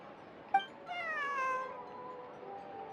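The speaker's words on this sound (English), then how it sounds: "This is my friend's cat." A cat from Genshin Impact meows in a single clear, drawn-out call with a rising then falling pitch, preceded by a brief soft click, heard close and alone over a low ambient hum.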